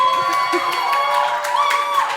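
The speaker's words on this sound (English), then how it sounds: "Let's give a round of applause to Maya," Audience at a live event cheers and claps, a dense crowd roar with whoops throughout, loud and sustained.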